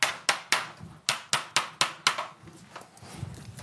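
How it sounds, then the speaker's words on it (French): A hammer taps wooden dowels into a board in a quick series of about ten sharp, close knocks, the blows gradually softening toward the end. "Avec un marteau, vous allez les insérer."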